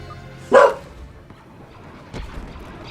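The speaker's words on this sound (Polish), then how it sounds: "Ale on szczeka do drzwi, wiesz?" A dog barks once at a door, a single sharp, fairly close bark followed by quiet and a faint later thump.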